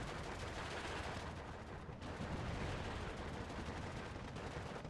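Steady, dense crackle of Suomi submachine gun fire in the wartime strategy game Steel Division 2, continuous distant shooting blended into a constant battle din with no pauses.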